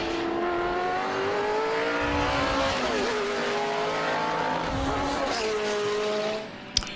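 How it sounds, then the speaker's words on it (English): Heritage touring cars, Ford Falcons among Commodores, race by on a circuit with loud, high-pitched engine howls rising and falling through gear changes, then the noise drops away at the end. "So David Hulk takes the win in the Falcon"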